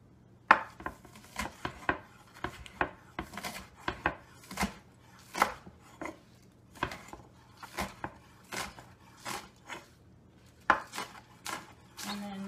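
A knife chops cabbage into long strips for kimchi, with about a dozen or more sharp, close cuts against a board in an uneven, steady rhythm and little else around them.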